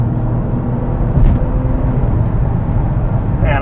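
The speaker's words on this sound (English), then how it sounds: "driving the 996 GT2" A Porsche 996 GT2 drives along, its engine a loud, steady low drone heard from inside the car, with a brief whoosh partway through.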